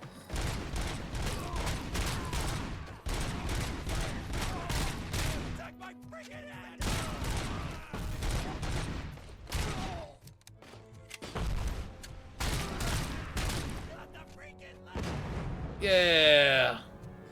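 Loud, sustained gunfire from RoboCop: Rogue City comes in long, dense bursts separated by short pauses, close and heavy with thuds of impact, while a player's voice speaks over it near the end.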